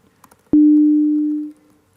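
A single clean electronic sine tone starts abruptly and holds steady for about a second before fading away, alone in near silence.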